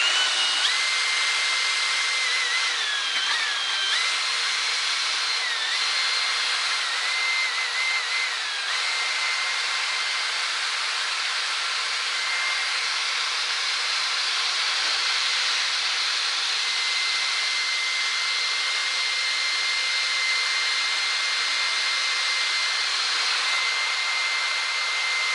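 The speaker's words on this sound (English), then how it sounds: "If I give it a go with this drill." A power drill whirs steadily and loudly, cleaning carbon deposits off a valve from a Lister D stationary engine, running continuously with only slight changes in pitch as it bites into the crud.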